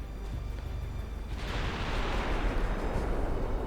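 Battleship guns fire in a naval warfare game: heavy low rumbling booms, then a surge of roaring blast noise that swells and lingers loudly to the end.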